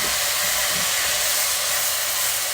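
Water added to a hot pot of collard greens sends up a loud, steady steaming hiss that stays close and constant throughout, with no talking.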